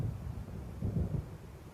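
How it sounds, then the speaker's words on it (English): Low, muffled thunder rumbles from an approaching storm in the video game Alan Wake, a brief swelling roll of deep noise that stays soft and distant. "It seems there's a storm coming."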